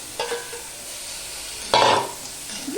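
Crab claws in a little oil with some water, stirred in a pan: two scraping stir strokes over a soft, steady sizzle, the second longer and louder, with no talking.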